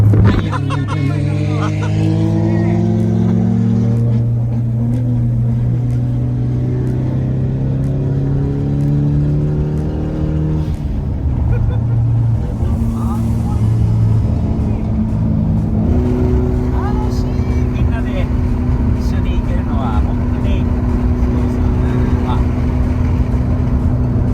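Toyota Chaser engine at Daikoku parking area, heard as a loud, steady engine drone with rising and shifting revs over about twenty-four seconds, a tuned car with other vehicles nearby and people talking over it.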